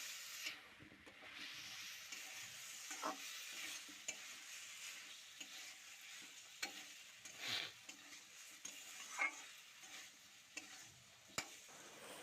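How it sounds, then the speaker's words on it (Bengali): A cauliflower curry with spices is stirred in a pan, a steady low sizzle under soft scraping and occasional sharp clicks of the spoon against the pan. "এরকম বারে বারে নাড়াচাড়া দিয়ে নিয়েছি"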